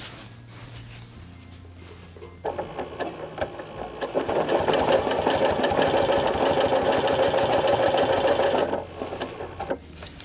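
A Janome Continental M8 sewing machine quilting with a ruler foot starts up and runs with a fast, steady mechanical whir and rhythmic stitching clatter for several seconds, then stops; close and moderately loud with no talking.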